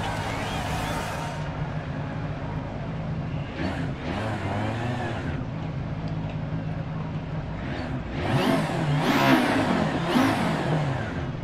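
A rally car engine in the VR racing game Dirt Rally 2.0 revs and shifts through repeated rising sweeps, moderately loud, with a voice talking over it at times.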